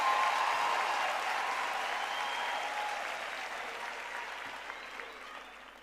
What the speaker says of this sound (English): Let's give them another round of applause for that.